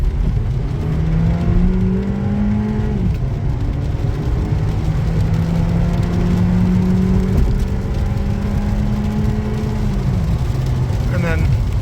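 A Honda Civic engine accelerates hard, its pitch climbing then dropping at each gear change, three rising sweeps in a row, loud and close throughout.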